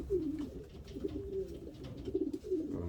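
A racing pigeon in a breeding loft coos softly and repeatedly, low throaty calls rolling close by in a steady, murmuring rhythm.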